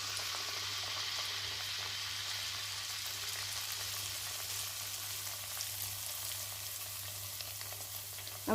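Neyyappam batter fries in hot coconut oil with a steady, dense crackling sizzle that holds an even level throughout, ending with a brief clatter.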